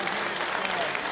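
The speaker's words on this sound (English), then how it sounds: "That's the applause for him" Crowd at a Watford v Sunderland football match applauding player Ryan Porteous as he walks around the pitch, a broad, steady patter of clapping from the stands with murmured voices mixed in.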